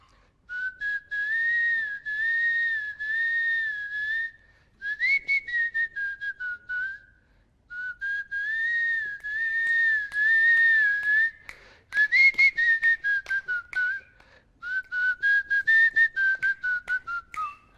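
A person whistles the melody of a song from the Telugu film Power, in several long phrases of warbling, sliding notes separated by short pauses, clear and close with no talking.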